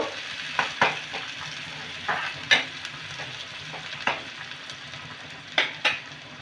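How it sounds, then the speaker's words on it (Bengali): Chopped onion is lightly sautéed in a pan for raw banana kofta curry, giving a soft, continuous sizzle under a series of irregular scraping clicks from a spatula stirring it, with no voices. "পেঁয়াজটা কিন্তু লাল করে ভাজবো না একটু সামান্য নেড়ে নেব"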